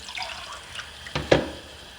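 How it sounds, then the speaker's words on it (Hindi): Water is poured from a mug into a pot of beef balti gosht, a brief close splash and trickle that swells near the end, with no talking. "पानी डाल दूँगी"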